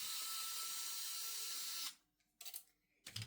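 An electric screwdriver whirs loudly and steadily while unscrewing the hinge screws on a Dell Vostro 3520 laptop, then cuts off, followed by a few short close bursts and clicks.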